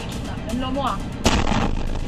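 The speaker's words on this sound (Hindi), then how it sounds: "हाईवे पर दौड़ती कार के डैश कैम में ईरान का मिसाइल अटैक कैद हुआ है।" Iranian missile strike on Ashdod captured from a car on a highway: a dense rumbling din, then a sudden heavy blast that sharply raises the roar, with faint voices underneath.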